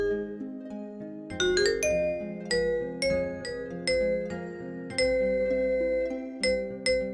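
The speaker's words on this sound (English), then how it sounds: "There is no glockenspiel in this sound font. There's vibraphone 2." Vibraphone 2 patch from a PS1-style soundfont playing a Final Fantasy IX MIDI: mallet notes ring out one after another with sustained, shimmering tails that overlap into gentle chords, dry and fairly soft with no voices.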